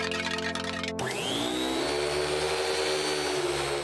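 A cartoon vacuum cleaner starts up with a rising mechanical whine, then settles into a loud, steady motor roar with a high tone on top, close by and alone.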